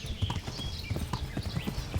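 A horse's hooves clip-clop in a quick, steady rhythm through Kingdom Come: Deliverance, close and prominent, with faint voice and ambient sound behind.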